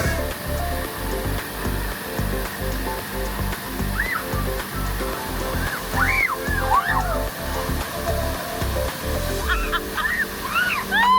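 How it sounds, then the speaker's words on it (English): Waterfall at Rio On Pools in Belize, a steady broadband rush of falling water running throughout with splashing and faint voices mixed in. "They're gonna go to that waterfall right there."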